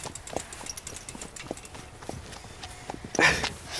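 Horses ridden along at a walk, their hooves clip-clopping in an irregular, close rhythm, with one louder scuffing clatter near the end and almost no talk.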